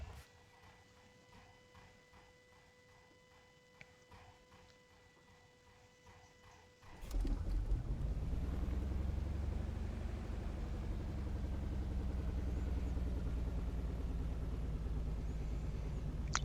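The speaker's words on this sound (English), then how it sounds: "Fuel's in the green and we can start the engine." A light aircraft engine, the piston engine of a Beechcraft Bonanza in a flight simulator, cranks and catches partway through, then settles into a loud, steady, continuous drone after a quiet cockpit lead-in with faint clicks.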